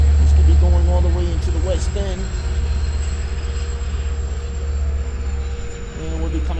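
A Long Island Rail Road train of M3 cars comes to a stop at Ronkonkoma station, giving a loud low rumble with tonal whines and brief squeals, while a voice talks over it.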